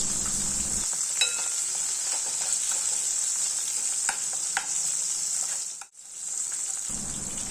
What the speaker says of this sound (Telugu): వేసిన వెంటనే కదిపేయకుండా ఒక 2 మినిట్స్ పాటు ఫ్రై అయిన తర్వాత వీటిని టర్న్ చేసుకోవాలి.